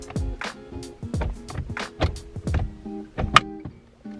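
Several sharp plastic clicks and snaps as a trim piece is pressed into its slots on a VW MK6 Golf steering wheel, close and fairly loud, spread irregularly over a few seconds with no talking.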